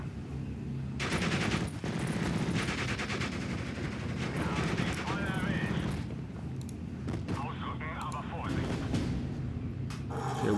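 Bursts of gunfire and machine-gun rattle from units in the WWII strategy game Steel Division Normandy 44 crackle in repeated volleys, with mechanical clanks between, over a background of game noise and a voice talking.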